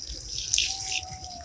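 Water trickles steadily onto a potted rose bed mulched with coconut husk over cocopeat, manure, vermicompost and neem cake, a soft continuous pour with faint background hiss.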